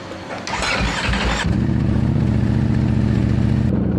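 A 2022 Ducati Streetfighter V4S motorcycle engine cold-starts up close with a sharp crank and catch, then settles into a loud, steady, rumbling idle that runs on alone until it cuts back near the end.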